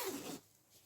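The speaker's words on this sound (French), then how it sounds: "Pour finir le sac, je vais re-rentrer la fermeture éclair" A metal zipper on a handmade summer bag being pushed inside during sewing gives a short, loud rasping zip in the first half-second, then fades to quiet.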